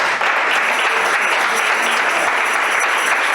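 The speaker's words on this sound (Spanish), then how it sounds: "Dale palmas al Señor, dale palmas." Loud, steady clapping from a church congregation, continuous and even throughout a few seconds, with no voices standing out.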